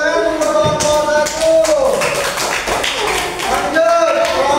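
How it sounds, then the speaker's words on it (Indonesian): Students in a classroom clapping for a group, uneven taps and claps close by, with voices talking over them throughout. "kasih tepuk tangan untuk kelompok"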